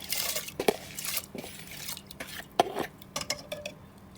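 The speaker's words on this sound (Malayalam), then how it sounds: "ഇതിലോട്ട് നമ്മൾ നേരത്തെ കഴുകി വൃത്തിയാക്കി വെച്ചിട്ടുള്ള ഗോതമ്പിനെ മാറ്റാം" Washed wheat grains pour and clatter into water in a metal pressure cooker, with small splashes, metallic knocks and a couple of sharp clinks, close by.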